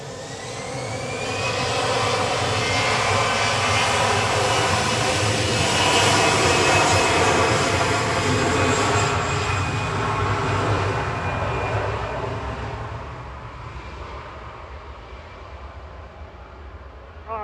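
Jet airliner G-ZGY departing Manchester for Split: a powerful engine roar that builds over the first seconds, holds loud and whining through the middle, then slowly fades as the aircraft climbs away, with no speech.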